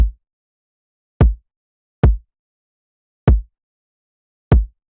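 An electronic kick drum from a bass music project thumps five times alone, deep and punchy with short decays, spaced unevenly over silence.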